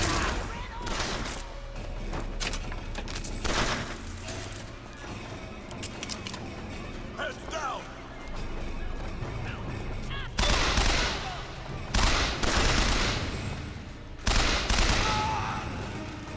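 Gunfire in the Bioshock Infinite video game: repeated bursts of shots and rattling fusillades, loud and close, coming in clusters with short gaps, while a player's voice talks over the fighting.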